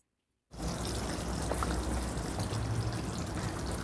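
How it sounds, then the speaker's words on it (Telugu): Water poured onto soaked cashews and tomato pieces in a grinder jar, a steady, even pouring wash that starts abruptly after a brief silence and continues quietly to the end. "ఇప్పుడు కొద్దిగా నీళ్లు పోసుకొని మెత్తగా గ్రైండ్ చేసుకుందాం"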